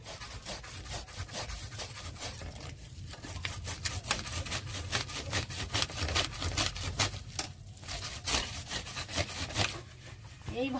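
Palm fruit seeds rubbed by hand against a basket or scraper to work the pulp free, a steady run of rough, rasping scrapes repeating close by with no talk.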